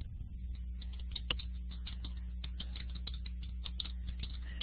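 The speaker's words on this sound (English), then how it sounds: "So I'm typing in" Quiet keyboard typing: a steady run of light, close key clicks over a low room hum, with no voices.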